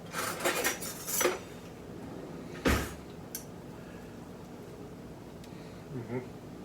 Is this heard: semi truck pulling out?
no